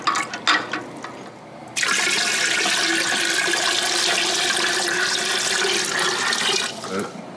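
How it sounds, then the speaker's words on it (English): Water gushes steadily into a pot holding jars for canning blueberry jam, a full rushing pour that runs for several seconds after a few clinks, then tapers off. "the water is going to need to be above the jar, so I will have to add some water to this"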